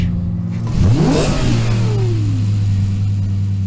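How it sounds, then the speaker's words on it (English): A recorded Lexus LFA supercar engine revs up sharply, its pitch sweeping up and then falling back, and afterwards a steady, loud engine tone holds close by. "This video demonstrates breaking a wine glass by playing the recorded car engine sound in front of the glass."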